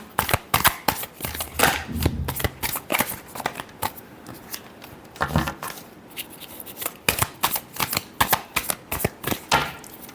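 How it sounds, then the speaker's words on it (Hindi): A deck of cards is shuffled repeatedly at close range in crisp riffling bursts with sharp flutters and taps between them, quiet and without talk. "Last shuffle."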